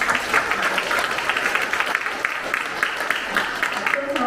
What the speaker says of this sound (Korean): 우리 모두 한번 박수 한번 쳐주시면 좋겠습니다